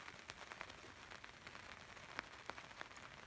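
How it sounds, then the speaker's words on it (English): Light drizzle falling at a rural ruin being renovated in central Portugal, a soft continuous hiss of fine rain with scattered distinct drops tapping nearby surfaces, steady and quiet throughout. "it's more of a little drizzle, but it's a start. We have rain."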